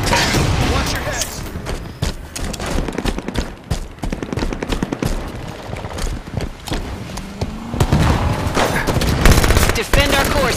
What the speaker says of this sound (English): Grenade out. Watch your heads.